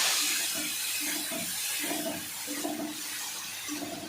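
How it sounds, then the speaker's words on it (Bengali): Potatoes fry in a pan with dried chili and cumin powder, giving a steady hiss and sizzle. Faint clinks and stirring sounds come through it. The sizzle is close and continuous for the whole stretch. "তিনটে আলুটা একটু লাল করে ভেজে নেবেন, বেশি লাল না, হালকা লাল করে ভেজে নেবেন।"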